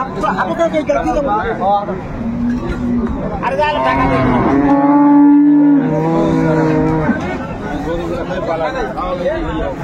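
Cows lowing at a cattle market in Dinajpur, where dairy cows are sold with calves; one long, loud moo rises over a steady crowd babble, with nearby people talking throughout.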